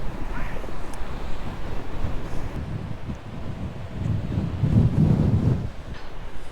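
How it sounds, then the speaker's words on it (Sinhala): Strong gusting wind buffets the microphone at the seaside in Warrnambool, Australia, with rough waves surging underneath; a continuous loud roar that swells near the end, with no one speaking. "වැස්සයි හුළඟ තියෙනවා මාර සැරයි."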